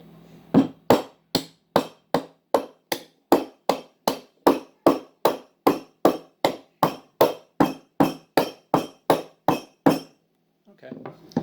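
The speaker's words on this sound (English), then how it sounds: "And sometimes I'll just tap it with a hammer a few times." About two dozen sharp hammer taps in a steady, even rhythm, close and loud, ending with a short pause and a faint bit of movement.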